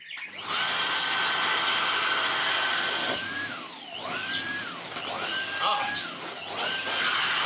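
A Dyson DC49 digital cylinder vacuum cleaner runs nearby with its head spinning, giving a loud, steady whine that rises and falls in pitch several times as the motor changes speed.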